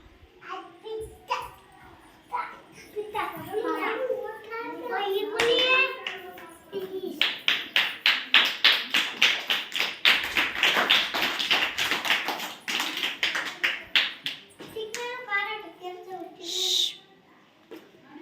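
Children at a classroom attendance session clap their hands in a quick, even burst of many claps, close and fairly loud, with an adult's and children's voices talking before and after.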